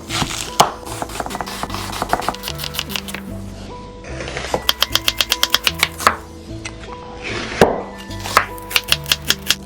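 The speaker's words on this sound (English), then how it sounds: "1 large onion, slice it." A knife slicing a large onion on a cutting board. Rapid, crisp chops fall in quick runs of even strokes with brief pauses between them, close and loud, under steady background music.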